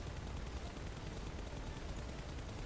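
Sustained dense gunfire from PUBG Mobile, a loud unbroken wash of rapid shots filling the whole moment with no voices over it.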